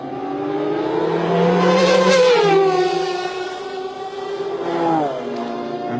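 Peugeot 905 Evo1 LM and Toyota TS010 prototype race cars at the 1993 Le Mans 24 Hours make a loud, high-pitched engine wail that rises and falls through gear changes. It is heard up close, with no speech over it.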